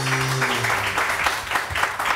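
Applause from a studio audience on a morning TV talk show rolls on continuously and fairly loud, with a voice briefly heard at the start.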